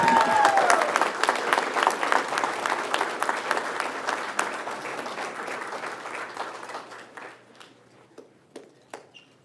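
Applause at a town council meeting in Yucca Valley starts full and busy, then thins out, leaving a few scattered, isolated claps by the end.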